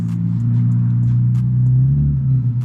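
Car with a Nissan VQ engine pulling up nearby, a loud low rumbling idle and exhaust drone that holds steady and swells slightly before cutting off.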